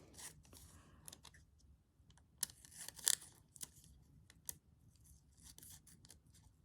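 Scissors snipping through a stitched fabric piece, a series of sharp, close cuts with a few louder crisp snips among quieter ones, heard alone in a quiet room.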